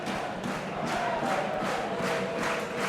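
A big crowd at an evening rugby league match under floodlights in Hudsall, Bradford Bulls against York Knights, keeps up a loud, steady roar of shouting and cheering with rhythmic chant-like swells throughout.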